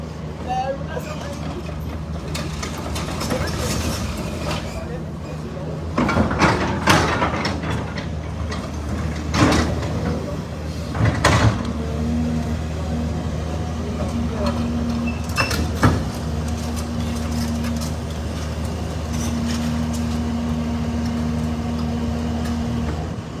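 A yellow demolition machine working at the CDC's Congo Town headquarters gives off a loud, continuous heavy engine rumble. Clanks and scraping bursts recur throughout, with a steady mechanical whine in the background.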